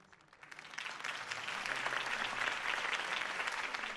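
Applause from a crowd in a video game swells up and holds steady, a dense wash of clapping with no voices on top.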